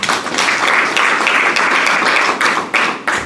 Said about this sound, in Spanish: regálenle un aplauso al Señor